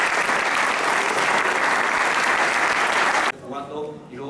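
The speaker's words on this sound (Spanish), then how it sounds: "Un aplauso para el Comando Obras" Loud, dense applause from a gathered crowd honoring the Comando Obras I+D team, sustained for about three seconds before cutting off abruptly to a speaking voice.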